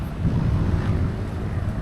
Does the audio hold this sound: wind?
yes